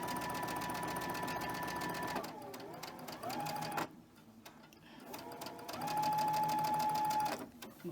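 A sewing machine stitches red and background quilt fabric for a holiday star block, its motor whirring steadily in two long runs broken by a short pause and some quieter handling in between.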